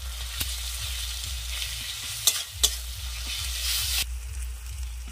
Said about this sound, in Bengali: এইবার আমি রসুনটা দিয়ে দেব।